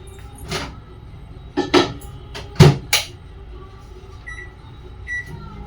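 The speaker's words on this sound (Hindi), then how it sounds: "तो कर लेती हूँ सब्जी को माइक्रोवेव में गरम" Several short knocks and thumps of a microwave door and panel being handled, followed by a faint steady hum and a couple of soft beeps as it heats a drumstick curry.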